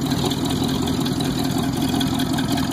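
A Studebaker-powered car with a 283 engine fitted with trips idles steadily at a car show, a continuous rumbling engine note heard up close with no talking over it.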